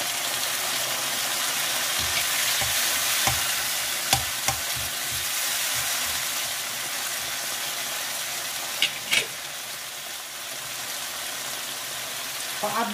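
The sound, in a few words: tomatoes added to frying pan for spinach dish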